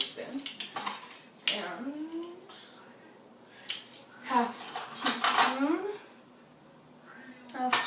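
Metal measuring spoons clink and rattle as they are handled and set down, a series of bright, close taps scattered through the clip under intermittent talking.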